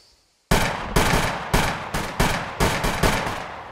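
Loud, close gunshots fire in a rapid burst of about eight shots in the survival video game Scum, evenly spaced after a brief silence.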